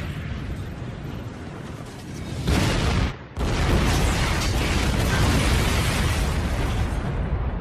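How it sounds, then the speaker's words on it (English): Grenades exploding in a loud, sustained roar of blasts that swells partway through, cuts out for an instant, then rumbles on dense and close, with no talking. "They're grenades!"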